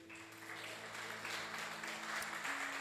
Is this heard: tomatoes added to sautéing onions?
no